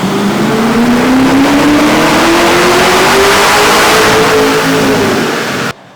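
A car engine revs hard on a chassis dyno at a performance shop, one long, loud, steadily rising pull lasting several seconds before it cuts off abruptly.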